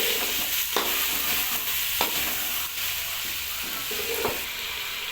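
Chopped tomatoes sizzle steadily in a hot pan of frying chicken while a spoon stirs them, with a few sharp scraping knocks against the pan.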